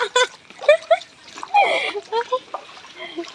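Feet wade through flood water around flooded homes, giving a series of close splashes and sloshes while a person talks over them.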